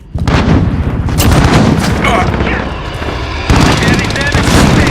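Gunfire in a hardcore team deathmatch of Modern Warfare, loud and dense with rapid bursts and heavy booms across the whole span, while radio-style voices talk over the shooting.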